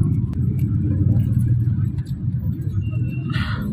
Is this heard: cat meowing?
no